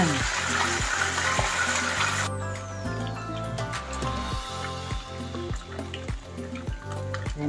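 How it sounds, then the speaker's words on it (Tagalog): Pompano fish frying in hot oil, a steady loud sizzle with some clattering, heard under background music with occasional talk. "habang piniprito natin yung ating pampano"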